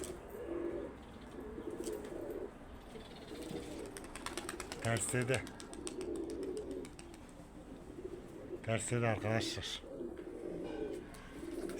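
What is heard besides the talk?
pigeon cooing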